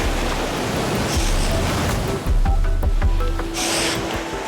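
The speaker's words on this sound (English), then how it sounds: "The waves are knocking me all over the place." Ocean surf surging against coastal rocks where goose barnacles grow, a continuous loud roar of churning water with heavier rushes and wash, close and enveloping, with no speech.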